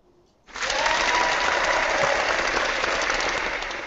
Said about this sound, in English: so you needed applause for that one